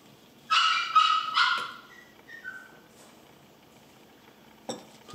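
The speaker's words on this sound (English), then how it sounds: "Please ignore the dog." A dog barks in a quick burst of three or four close, loud barks, followed by a couple of softer whines and a faint yip near the end, heard indoors during a camera lens repair.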